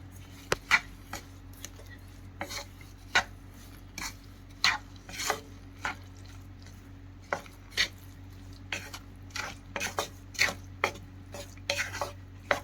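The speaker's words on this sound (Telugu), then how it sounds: "షుగర్ని యాడ్ చేసి మిక్స్ చేసేసుకుందాం" A spoon stirs sugar into Satyanarayana prasadam in a pot, giving steady scraping strokes with sharp clinks against the metal sides at an uneven rhythm, close up and with no voices.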